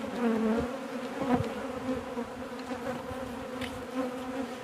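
Agitated honeybees swarm around beehives during a hive inspection, a dense continuous buzzing that stays steady and fairly close throughout, with a few louder passes as individual bees fly near.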